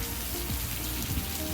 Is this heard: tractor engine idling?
no